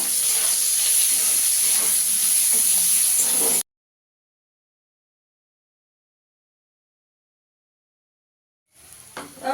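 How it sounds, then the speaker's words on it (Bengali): Chopped onions frying in hot oil with whole cardamom and cinnamon give a loud, steady sizzling hiss for a few seconds, then cut abruptly to silence before a brief sizzle returns at the end. "পেঁয়াজটাকে একটু লাল লাল করে ভেজে নেব।"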